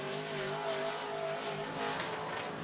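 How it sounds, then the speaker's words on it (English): A dirt track race car runs hot laps at Cottage Grove Speedway in Oregon, a steady droning engine roar with shifting pitch, moderately distant and continuous, with no talk. "Nick Trenchard, the 6th car to hit the racetrack right now."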